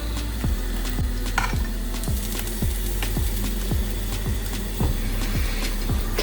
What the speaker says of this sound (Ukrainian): коли я смажу млинці, то обов'язково він підгорить